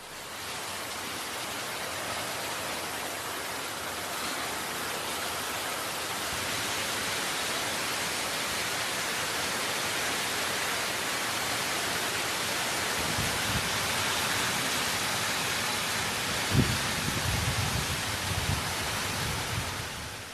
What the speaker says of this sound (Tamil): பலத்த காற்றுடன் கூடிய கனமழை பெய்தது